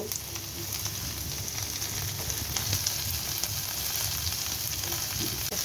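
Chopped garlic and onion fry in hot oil in a pan, a dense, continuous crackling sizzle heard close up and alone, with faint stirring underneath.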